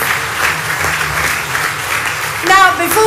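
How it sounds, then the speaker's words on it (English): A television studio audience gives sustained applause, loud and continuous, with a voice starting to speak over it near the end. "Let's give her another round of applause."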